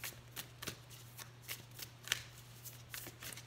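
Moon oracle cards being shuffled by hand, a run of soft papery riffles and flicks with a steady rhythm, close and quiet, with a low hum underneath and no talking.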